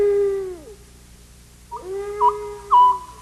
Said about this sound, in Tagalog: Yun ang screech owl.